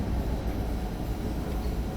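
A DB BR101 electric locomotive in the Train Sim World 2 game runs under throttle, a steady, loud rumble of traction and rolling wheels with no voices.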